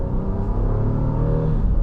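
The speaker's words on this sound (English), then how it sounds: "Nice sound out of this naturally aspirated V6, and it's all real engine sound in there." Inside a 2026 Honda Passport TrailSport, its naturally aspirated V6 pulls hard uphill, a loud, steady low engine rumble with a rising drone throughout.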